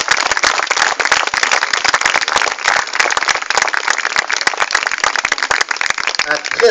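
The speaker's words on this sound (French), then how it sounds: "je vous invite à applaudir notre ami Laurence et Salvatore" A crowd applauds steadily at a Camargue horse show, dense continuous clapping with sharp individual claps standing out, loud and sustained throughout.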